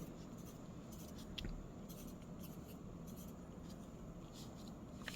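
A pen or marker scratches out numbers by hand in a quiet setting, faint, close strokes in short bursts across the whole stretch with no voices.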